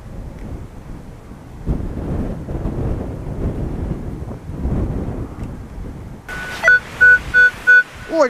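Gusts of wind buffet a small camera microphone perched on a fence post in an open field, a steady rumbling roar for most of the clip, then a few short electronic beeps from a metal detector near the end.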